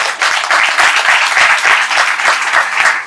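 Crowd at a political party meeting applauding, loud dense clapping with a rhythmic, pulsing swell throughout.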